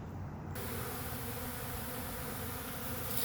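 Honeybees at a pollen feeder in a bee yard in December make a steady, faint, close hum of many insects with no talking.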